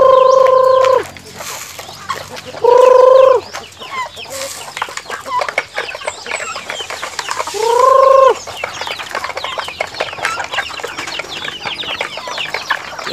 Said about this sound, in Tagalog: Ito tayo sa ating mga manok.